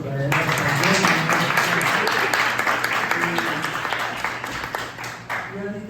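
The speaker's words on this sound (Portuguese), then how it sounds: "Uma salva de palmas para ela" Audience at a Portuguese-language book launch lecture on burnout breaks into loud, dense clapping that holds steady for several seconds, then tapers toward the end, with some voices mixed in.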